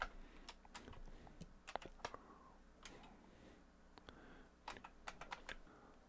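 A password goes in on a computer keyboard during a Ubuntu 16.04 LTS install in VirtualBox, heard as faint, uneven bursts of key clicks with short pauses between runs and no talking.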